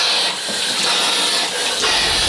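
Shower water runs steadily in a hotel bathroom, a continuous close hiss of spray with no talking.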